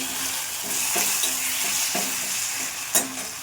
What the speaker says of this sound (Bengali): এবার এগুলো ভালো করে কষিয়ে নেব